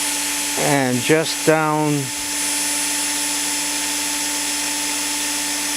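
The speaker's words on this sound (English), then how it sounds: "What we're trying to do here is just drill through the head of the rivet" An electric drill bores through the head of a rivet on a Zastava M76 rifle receiver, giving a steady high whine with a constant tone that holds on after someone speaks briefly over it.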